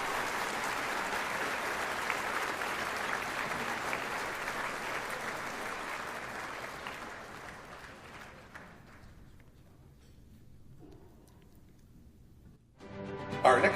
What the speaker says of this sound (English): Let's give another round of applause for Michaela Cunny.